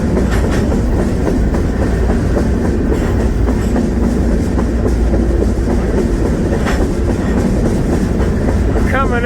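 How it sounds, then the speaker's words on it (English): A freight train runs through Illinois near Centralia, its loud continuous rumble and rhythmic clickety-clack of wheels on rail joints filling the whole stretch, with a brief squeal near the end. "Maybe a train coming."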